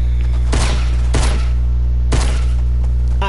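A pistol fires three sharp, loud shots in a video game, spaced about a second and a half apart, over a steady low hum.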